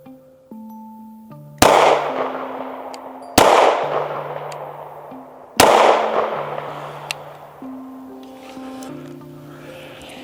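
Three loud, sharp pistol reports from a 30 Super Carry or 9mm handgun fired at a target on a range, spaced about two seconds apart, each with a ringing decay, over faint background tones.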